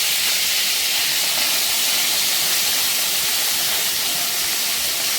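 Washed bombil (Bombay duck) fish frying in a spoonful of oil, a steady loud hiss of sizzling that holds without pause, close up and with no talk.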